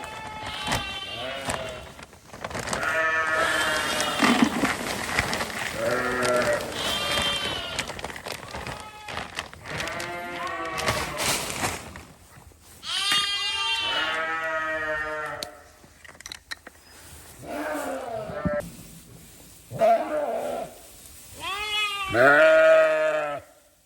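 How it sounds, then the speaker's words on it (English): A bottle-fed lamb bleats repeatedly and loudly close by, with wavering cries in uneven bursts and short pauses between them. "She will just keep bleating until I feed her."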